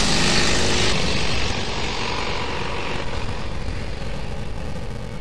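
A diesel motorcycle engine's loud, broad roar that stays steady and continuous, gradually easing slightly as it goes, with no voices.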